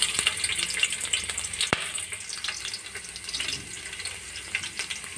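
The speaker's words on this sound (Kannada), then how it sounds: "ಆಯಿಲ್ ಬಿಸಿ ಆಯಿತು. ಇವಾಗ ನಾನು ಇದಕ್ಕೆ ಬೆಳ್ಳುಳ್ಳಿ ಹಾಕ್ತಾ ಇದ್ದೀನಿ." Garlic hits hot oil in a pan for chicken liver pepper fry, giving a soft, steady crackling sizzle with scattered sharp pops, fairly faint and with no talking.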